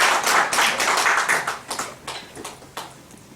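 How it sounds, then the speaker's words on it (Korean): A classroom audience at a university lecture gives a short burst of clapping that fades into a few scattered claps. "박수 한번 주시죠."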